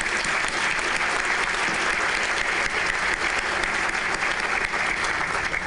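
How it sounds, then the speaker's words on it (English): An audience at a State of the City luncheon applauds, a dense and steady round of clapping that fills the room at close range without pause. "So let's give them a short round of applause."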